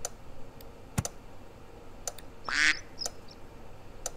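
A single short, bright duck quack from the video game Super Auto Pets sounds midway, set among sparse mouse and keyboard clicks at a quiet, close level.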